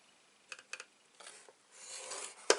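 Paper is scored on a scoreboard tool in faint, short scraping strokes, a few separate rubs followed by a longer rasp. A sharp tap comes near the end.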